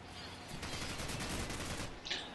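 Rapid automatic gunfire from Call of Duty 4, fired from the hip in sprayed bursts, dense and continuous for a couple of seconds with a brief sharper crack near the end.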